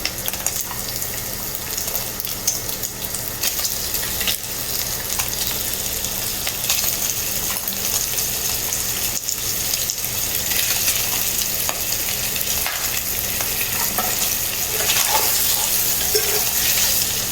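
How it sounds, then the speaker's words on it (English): Bacon and sausage fry in a pan with a continuous, fairly loud sizzle and crackle, steady over a long stretch, with occasional scraping stirs and light clinks on top. "So my bacon is cooking nicely. And I'm gonna go ahead and add in my sausage. Get it cooking too."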